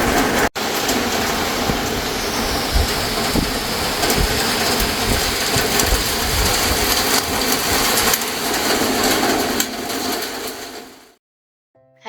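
Steady rain pours outside a house in Sweden, a dense continuous hiss with low rumbling texture that holds evenly for about eleven seconds before cutting to near silence, with no talk.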